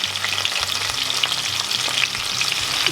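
Honey roast carrots and potatoes sizzle loudly in a skillet as they are basted, a dense steady frying crackle with occasional stirring scrapes and no voices.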